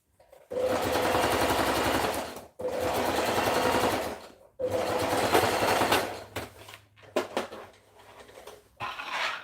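A sewing machine stitches dress fabric in three long, steady runs, each ending in a brief pause, then gives way to a few shorter stop-start bursts at close range.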